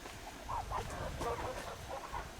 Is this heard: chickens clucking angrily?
yes